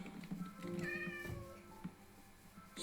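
Black cat mob in the Minecraft video game meowing, several distinct tonal meows in a row, clear and close, with faint game ambience underneath.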